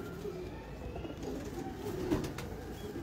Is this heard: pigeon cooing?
yes